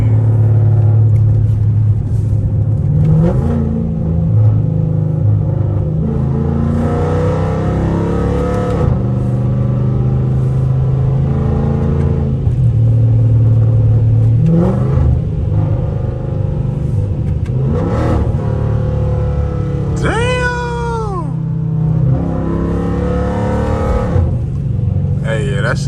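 A Dodge Charger SRT with its catalytic converter deleted revs hard up close, its deep rumbling exhaust swelling and falling in repeated throttle blips, with a sharp rising rev near the end while people talk over it.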